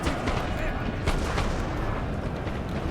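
Artillery and cannon fire in Napoleon: Total War, including a howitzer, heard as a dense, continuous rumble of booms and shots with a sharper crack near the middle.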